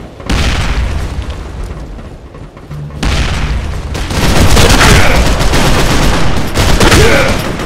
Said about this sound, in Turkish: Bomba atıyorum!